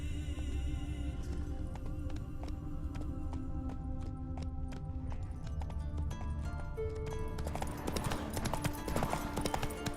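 Horse hooves clip-clop in a steady riding rhythm throughout The Witcher 3 gameplay, layered over game music and ambience, with louder mixed game sounds building near the end.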